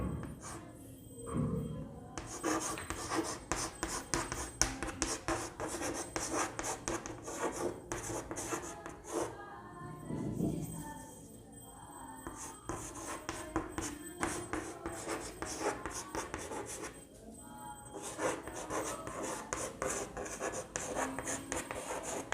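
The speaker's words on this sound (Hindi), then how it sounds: "लिख देता हूँ" A pen or marker writes by hand in a classroom setting, scratchy strokes and rubs coming in bursts with short pauses between them, close and fairly clear with no talking over it.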